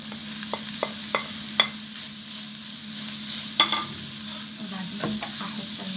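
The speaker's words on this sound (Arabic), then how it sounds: "بعد ما دبلت السبانخ واستوت كده مع البصل، هاخد اللحمه المفرومه" Minced meat frying in a pan with wilted spinach and onion, a soft steady sizzle broken by several sharp clinks and scrapes of stirring, close up and without talk.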